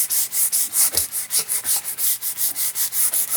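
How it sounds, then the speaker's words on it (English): Fast, steady back-and-forth rasp of 150 grit sandpaper lightly sanding a wooden part of an 1885 Winchester rifle, close and continuous with a regular stroking rhythm and no talking. "just give it a light 150 grit sand right here"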